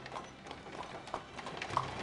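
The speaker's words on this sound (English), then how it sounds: "people still relied on the horse-drawn carriage" Horse hooves from a horse-drawn carriage clip-clop in a loose, uneven rhythm, faint and somewhat distant over a soft background wash.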